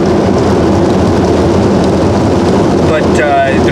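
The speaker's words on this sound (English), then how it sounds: "Oh, look at that rain!" Dense, steady hiss of heavy rain falling over a landscape, loud and unbroken, with a brief voice near the end.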